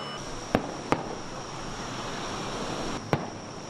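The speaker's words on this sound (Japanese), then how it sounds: "冥福を祈る花火も無事上がり" Three sharp, distant pops of memorial fireworks burst over a steady background hiss at Shichiri-Mihama beach in Kumano, Japan, two close together and one a couple of seconds later.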